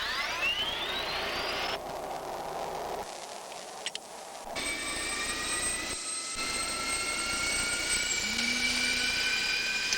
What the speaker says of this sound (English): We only use one switch to turn on the battery and another switch to start the jet fuel starter.